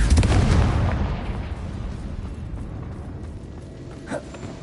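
A Confringo fire spell blasts in Hogwarts Legacy: a loud, rumbling burst at the start that fades into a long, noisy decaying roar, with a small pop near the end.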